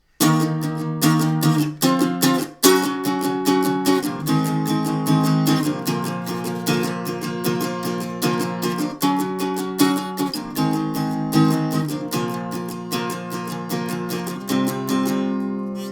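An acoustic guitar strums power chords through the bridge of a song, with dense rhythmic strokes and brief stops between sections, close and loud with no talking.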